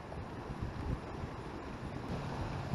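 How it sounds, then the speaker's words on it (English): Strong wind blowing across a lake during a windy fall day of bass fishing, a loud, steady rushing roar buffeting the microphone with gusty low rumbles, no talking. "Alright, you can calm down with the wind any second now."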